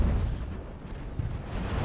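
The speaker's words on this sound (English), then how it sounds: "our defensive position is taking artillery fire from the ridgeline off to the south there" Artillery fire in the sailing-era battle game Ultimate Admiral: Age of Sail, a rumbling series of low booms and bursts rolling together at moderate loudness.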